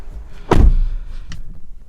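A single solid door of a 2021 RAM 1500 pickup truck shuts with a firm, close thud, followed by a faint latch click a moment later.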